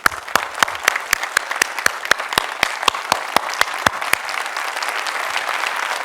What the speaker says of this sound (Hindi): चलिए एक बार जोरदार तालियां सबके लिए।